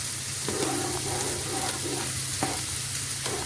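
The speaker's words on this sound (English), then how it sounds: "keep stirring the pasta" Pasta is stirred in a frying pan with creamy tomato sauce and tuna, a steady sizzle underneath while a utensil scrapes and clicks against the pan in irregular strokes, close and moderately loud.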